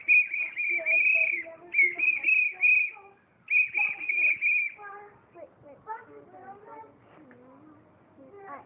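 A person whistles a song in bright, clear phrases, loud and close, with short pauses, then talking and children's voices take over.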